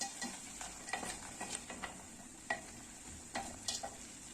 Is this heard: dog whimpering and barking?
no